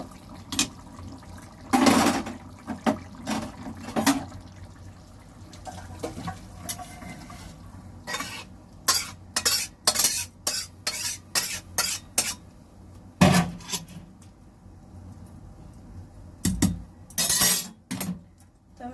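Cooked tuna fish curry is tipped and scraped out of a pan into a serving dish, producing scattered metallic clanks, spoon scrapes and wet slops in irregular bursts, close by and without talk.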